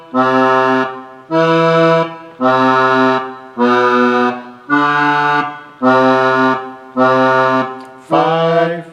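Accordion playing a simple beginner lesson melody, eight sustained chordal notes of equal length with brief gaps between them, loud and close, with no voices.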